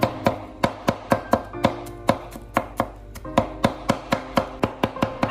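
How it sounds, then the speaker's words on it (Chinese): Garlic minced with a knife on a cutting board: a steady run of about twenty sharp, close chops at a brisk, even pace, each a crisp knock against the board. "这里的大蒜我们要剁得细一点会比较好"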